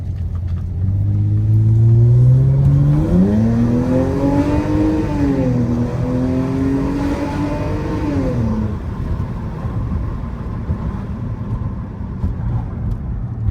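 A Lexus GS300 pulling hard under acceleration, the engine rumbling loud and close as it revs up smoothly through a long rising pull, then settling into a steady cruising drone.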